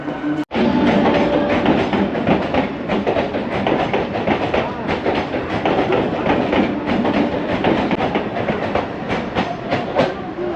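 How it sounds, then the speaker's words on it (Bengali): A Kolkata circular railway train rolls past close by, its steady loud rumble and clickety-clack of wheels on track filling the whole stretch, with a sharp brief click near the start. "চলে গেল ট্রেনটা।"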